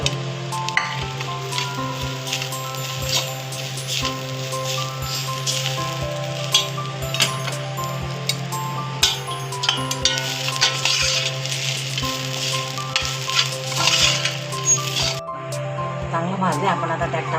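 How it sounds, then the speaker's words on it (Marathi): Grated coconut roasting in ghee in a pan, a steady loud sizzle with frequent scraping and stirring clinks throughout, close up, ending in a brief quieter stretch. "किसलेला खोबरं आणि थोडं तुपात परतून घेऊ."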